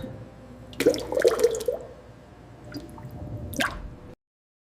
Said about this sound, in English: The fiber block enters the test liquid.